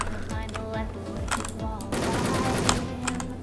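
Rapid gunfire in the shooting video game Wolfteam, rattling bursts of close shots in quick rhythm, moderately loud, continuing throughout with brief gaps and a denser stretch in the second half.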